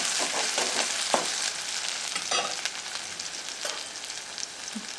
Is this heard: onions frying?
yes